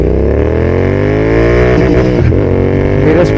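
A Royal Enfield GT650 motorcycle accelerates hard in first gear, its engine note rising loud and close in a continuous climbing roar, with brief gearshift-like dips near the end.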